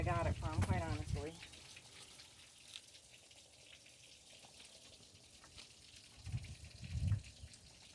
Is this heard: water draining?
yes